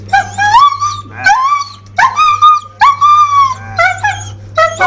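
A dog with chronic skin disease, itching and allergies whimpers and yelps during treatment, giving repeated high, wavering cries in short bursts close to the listener, with pauses between them.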